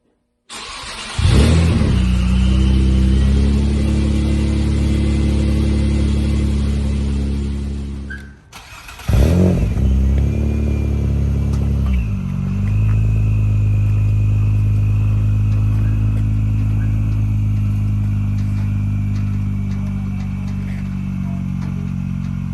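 A Nissan Maxima that needs tuning cranks and fires up, then its engine revs and settles into a loud, rough, steady idle close by. A brief dip interrupts it before the engine restarts and keeps running.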